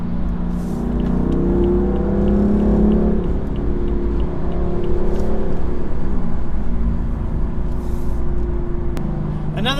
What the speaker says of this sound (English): This car, it's got like a whine growl that it sounds mean